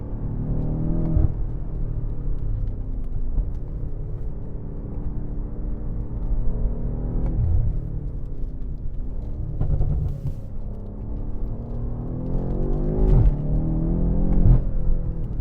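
A BMW M5 being driven gives a deep engine rumble whose pitch climbs and drops as it revs through repeated rises, heard close and loud from inside, with no talking.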